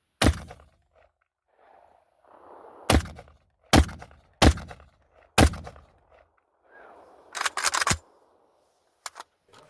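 Sharp, loud gunshots from a Molot Vepr Hunter rifle chambered in 7.62x54r, fired outdoors on a sunny day: five or six separate cracks spaced about a second apart, each with a short decaying tail, with faint ambient noise between them.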